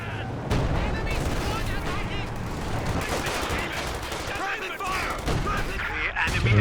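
Soviet ZiS field gun artillery barrage in the real-time strategy game Company of Heroes 2, a continuous dense mix of booms and gunfire, loud and steady, with a commentator talking over it.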